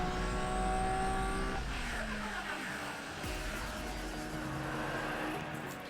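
Lamborghini Sesto Elemento race car in the Asphalt 8 racing game, engine roaring loud and steady with rising revs, gear shifts and a brief tire squeal during a multiplayer race.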